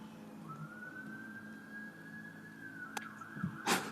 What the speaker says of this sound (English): The fire engines roll out in the background.